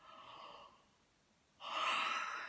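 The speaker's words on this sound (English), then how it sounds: "Whoops, that's making me yawn." One person yawns, close and quiet: a long breathy inhale fades into a short pause, then a louder open exhaling sigh.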